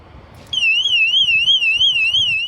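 A cheap 20-euro bike alarm switches on abruptly and sounds a loud, piercing electronic siren that warbles up and down in a steady fast cycle, close by and alone.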